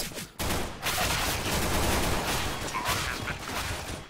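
Rapid gunfire crackles in a Counter-Strike-style video game match, a dense burst of shots lasting a few seconds at moderate loudness.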